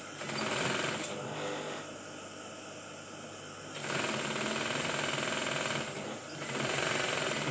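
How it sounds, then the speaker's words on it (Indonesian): Sewing machine stitching batik shirt fabric, a close, steady mechanical whirring in several runs separated by short pauses. "kita jahit, jahitnya dari dalam ya, jangan sampai kebalik loh kainnya"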